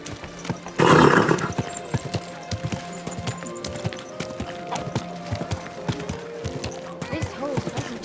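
Horse hooves clip-clop steadily through a busy Kingdom Come Deliverance 2 market, with a brief loud burst near the start and voices and other game sounds mixed in around the trotting.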